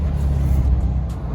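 A 2011 Hyundai Genesis Coupe 2.0T drifting across a snowy, rough parking lot, its engine a steady loud low drone throughout with no talk.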